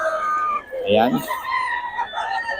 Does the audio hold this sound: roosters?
yes